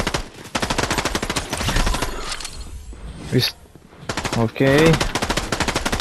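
Gunfire in the Fortnite video game, rapid automatic bursts rattling loud and steady under a voice talking, with a brief lull in the middle.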